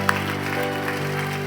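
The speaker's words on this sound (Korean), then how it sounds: "우리 하나님께 감사와 영광의 박수를 올려드리기를 원합니다" A worship congregation at a healing service claps together, making a steady, moderately loud wash of applause over sustained organ or keyboard chords.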